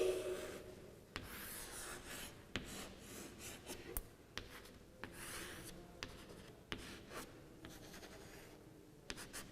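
A marker squeaks and rubs across a board as a fish is drawn, with soft irregular strokes and taps. The sound is faint and close, with no talking.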